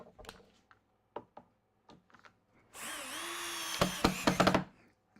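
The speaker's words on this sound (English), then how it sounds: "And then put the screw right through it." A power drill drives a screw through a board in a woodshop, starting with a steady whirring rise and running about two seconds loud and close, preceded by a few scattered knocks and taps.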